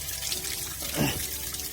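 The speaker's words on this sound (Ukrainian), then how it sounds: "Промиваємо під тиском. Ну що, тут досить вже промивати, вже чистіша вода тече." Water rushing under pressure through a car engine's cooling system, a continuous close splashing flow with a brief louder gush midway.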